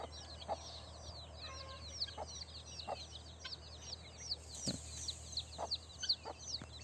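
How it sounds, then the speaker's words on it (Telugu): A mother hen of the country (nattu kodi) breed clucks while feeding her chicks, their rapid high peeps filling the background and a handful of short, separate clucks standing out nearby. "వాటికి ఫీడ్ ఎలా తినిపిస్తుందో వాటి తల్లి."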